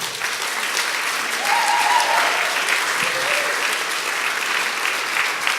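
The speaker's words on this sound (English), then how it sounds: "Let's just give Kay a little round of applause." Church congregation in a worship centre gives a warm round of applause for Kay, steady clapping from many hands that swells slightly midway, with faint voices murmuring underneath.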